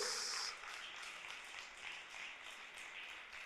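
A church congregation applauding during an online Sunday worship service, soft and distant clapping that continues evenly for a few seconds after a brief brighter sound at the start.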